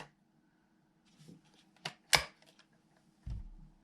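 A Rossi 410 shotgun being broken open, giving a few sharp mechanical clicks and a metallic clack followed by a dull low thump, quiet and close with no talking.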